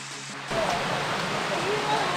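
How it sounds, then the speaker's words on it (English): Steady roar of rushing water at Sticky Waterfall near Chiang Mai, starting abruptly after a brief quieter moment and continuing as a constant broadband wash, with people's voices faintly around it. "Sticky Waterfalls."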